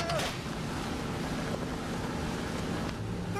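A fishing boat out at sea, with steady wind buffeting the microphone and a broad rushing wash of waves and water that stays constant and loud throughout.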